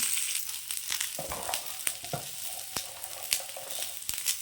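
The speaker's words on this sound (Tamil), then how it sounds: "கருவேப்பிலை போட்டுக்கலாம் இது நல்லா வதக்கிடலாம்" Curry leaves with fenugreek seeds sautéing in oil for a fish curry, a steady close sizzle with sharp crackles and spatters popping through it, and no voices.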